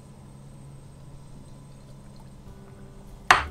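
Water spills near a flight simulator joystick: a low steady hum runs throughout, then a single sudden, short splash of liquid lands loudly right at the end.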